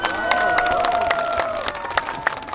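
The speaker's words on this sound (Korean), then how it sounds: "박수 부탁드립니다." Crowd at the 2017 Ulsan Whale Festival outdoor concert clapping and cheering steadily while an amplified voice holds a long sung note over the applause.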